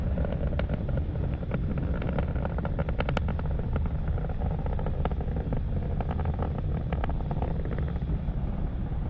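Falcon 9 rocket passing through max Q: a steady, dense, wind-buffeted engine roar with crackling texture, continuous and unchanging throughout.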